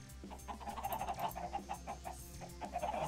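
Chickens on a video game farm cluck in quick repeated bursts, a busy flock chattering close and continuous over a low steady hum, with no talk.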